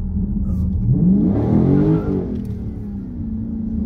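2018 Dodge Charger Scat Pack with a Pedal Commander, launching with wheelspin: a loud, close, roaring engine climbs in pitch as the car accelerates and the tires spin, then settles back to a steady drone.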